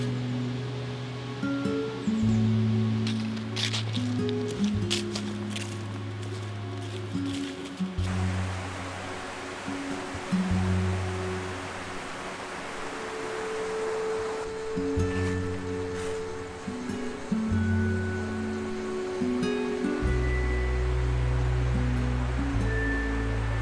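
A river flows beside a forest path strewn with fallen autumn leaves on the way to the village of Jidarzar, its steady rushing water filling the whole stretch beneath low, sustained musical tones.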